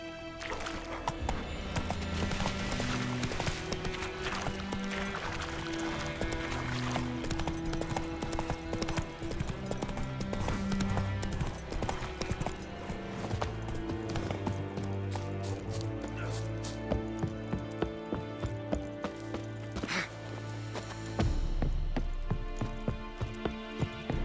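Roach the horse's hoofbeats in The Witcher 3 video game, a steady clip-clop rhythm running throughout over a bed of game music, with a brief faint voice.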